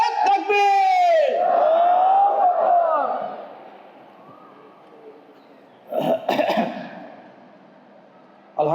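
A single raised voice calls out at a political rally for a Dhaka-18 parliamentary hopeful, followed several seconds later by a short, loud burst of crowd shouting the takbir chant in unison.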